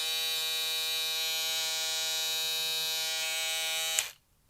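A Babyliss Pro Titanium foil shaver runs with a loud, steady electric buzz for about four seconds, then switches off and falls silent.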